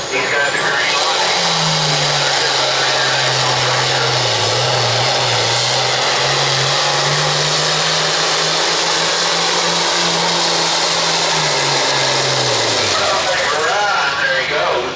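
Pro Farm class pulling tractor at a 9,000 lb tractor pull in Bowling Green, Missouri, its engine roaring loud and sustained for about ten seconds with a wavering pitch before cutting off, close by, with an announcer talking over it.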